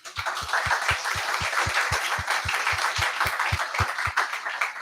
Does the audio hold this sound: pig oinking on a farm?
no